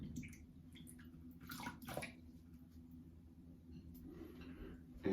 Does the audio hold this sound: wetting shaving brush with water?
yes